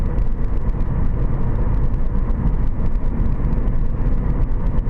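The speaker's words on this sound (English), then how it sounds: "so I slow the car down to 70 kilometers an hour" A car drives along a road at highway speed, its steady low rumble and road noise filling the cabin evenly, with no distinct change in pace.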